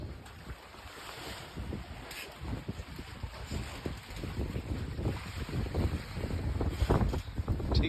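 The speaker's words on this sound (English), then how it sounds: "We got 10 or 11 knots of wind." Wind rushing and buffeting the microphone aboard a Lagoon 440 catamaran sailing in 10 to 11 knots of breeze, a continuous loud roar with water and wave wash beneath and no talk.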